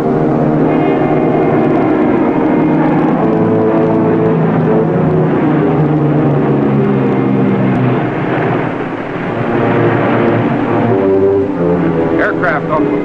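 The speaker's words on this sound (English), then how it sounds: "Aircraft off the port bow." An aircraft circles near a submarine at sea, giving off a loud, continuous engine drone that holds steady throughout with a slight swell and dip.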